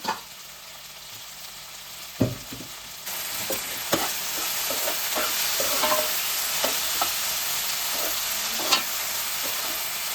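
Onion-tomato masala for a mutton kaima unde sambar fries in a pan with a continuous loud sizzle. A spoon gives repeated stirring scrapes and knocks throughout, with no talking.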